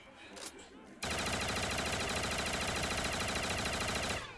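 Rapid automatic gunfire from a video game weapon in Z's Octagonal Ascension map, a dense continuous burst kicking in after a brief quieter moment and holding loud and steady to the end.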